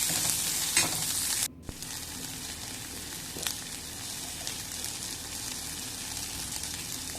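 Onions and green chilies sauté in a pan for a sambar made without dal, giving a steady hiss and sizzle with scraping stirs, one brief drop in sound and a sharp clink partway through.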